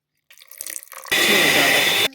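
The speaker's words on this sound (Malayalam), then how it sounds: "അപ്പോൾ നമുക്ക് കുറച്ച് വാനില ഇതുപോലെ ഒഴിച്ചു കൊടുക്കാം" Vanilla extract is poured into eggless vanilla cupcake batter. A few soft handling sounds lead into a close, steady pouring hiss that lasts about a second and then stops abruptly.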